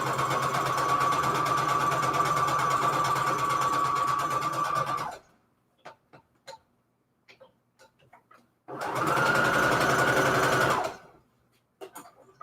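Sewing machine stitching a Christmas fabric scrap junk journal cover runs in two steady, close, loud bursts of fast rhythmic whirring, separated by a quieter gap of faint clicks and fabric handling.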